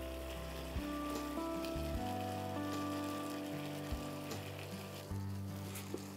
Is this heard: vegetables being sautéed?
yes